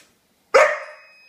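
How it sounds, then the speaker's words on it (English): A single sharp dog bark, loud and close, ringing briefly before fading into silence. "No barking."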